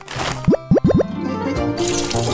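Cartoon water pours onto candy: four quick rising gurgling plops in close succession, followed by a softer trickling fill and a bright splashy burst at the end, no voices.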